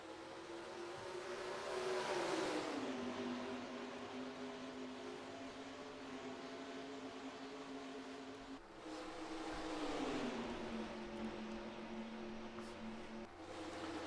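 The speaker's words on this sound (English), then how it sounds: "Back up through the gears they go." A pack of race cars in NASCAR Racing 2003 pulls away on a restart, engines droning steadily and rising in pitch as they climb through the gears, with one upshift dip midway and a second surge after it.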